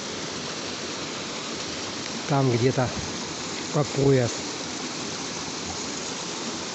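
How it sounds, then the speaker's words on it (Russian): A small waterfall on the Uluzden river, with a yew growing nearby, gives a steady loud rush of falling water that fills the whole clip, while a voice speaks briefly twice over it. "И тут водопадик. Смотрите, какой большой."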